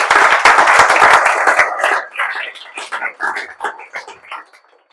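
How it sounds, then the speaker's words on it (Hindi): Audience at an IIT Kanpur results gathering breaks into loud, dense clapping that starts strong, then thins into scattered, fading claps over a few seconds. "तो उसके लिए भी ताली बजा दीजिए आपने"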